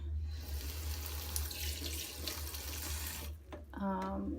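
Tap water runs steadily into a sink to soak the roots of a repotted orchid, a continuous close rush of flow that stops briefly near the end before a few clinks and a short resumption.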